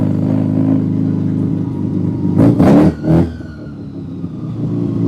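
A rotary-engine car idles roughly and revs on its first drive, a loud close drone with two sharp throttle blips midway before settling back to a steady hum.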